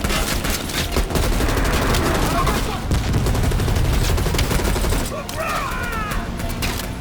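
Rapid bursts of automatic gunfire from the Call of Duty video game crackle almost without pause, loud and dense, with a short break before the shooting resumes more sparsely.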